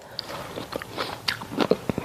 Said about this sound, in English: Hear that? It's still got a little bit of crunch to it.